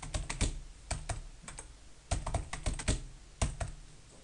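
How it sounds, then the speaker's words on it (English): Close, quiet clicking of keys on a computer keyboard as a password is typed, with short bursts of keystrokes separated by brief pauses. "let's type a simple password"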